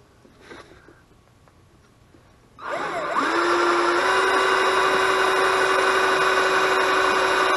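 A power drill spins up to unscrew screws from a cigar box guitar, starting after a quiet moment and then holding a loud, steady whirring whine for several seconds.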